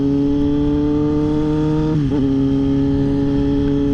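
A motorcycle with no exhaust pipe, no mirrors and no turn signals drones loudly and steadily nearby, with a brief dip in pitch partway through as it shifts.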